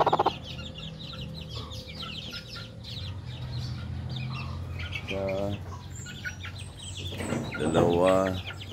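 Brooding hens cluck in a chicken yard alongside other chicken calls, a busy mix of clucks and chirps with a couple of louder, drawn-out calls near the end and faint background talk.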